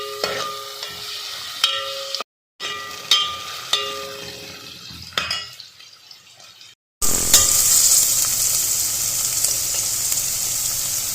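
Potatoes and cauliflower frying in hot oil for dhaba-style aloo gobhi, with intermittent stirring clatter and sizzle, then a loud steady sizzle after fresh ingredients hit the pan.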